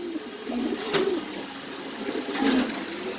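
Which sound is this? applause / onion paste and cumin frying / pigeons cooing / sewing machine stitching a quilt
pigeons cooing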